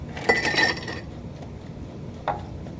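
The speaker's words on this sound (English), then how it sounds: "While I am shaking this, I am going to pour in my ice cubes" Ice cubes clatter and clink into a metal shaker in a brief rattling burst, followed by a quieter pause and one more small clink.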